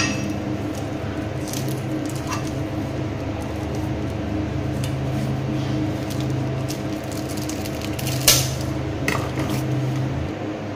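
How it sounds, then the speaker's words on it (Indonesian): A knife slices a bar of chocolate into long strips on a board for a sweet snack. Soft, scattered cutting clicks sit over a steady room hum, with one sharper clack near the end. "Jadi ini untuk coklatnya saya akan potong."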